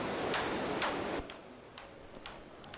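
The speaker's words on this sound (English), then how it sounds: "And now these are added together and the volume envelope applied again. And now we have a click." Synthesized clicks built in the 4klang synthesizer: two bright, loud broadband clicks followed by several sharper, quieter ticks spaced about half a second apart, each short and percussive.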